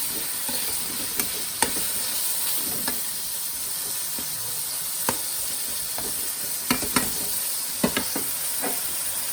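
Tomatoes, onion and cumin frying in oil for a mutton karahi, a steady sizzling hiss punctuated by scattered sharp clicks and knocks from the stirring spoon, close and without any voices.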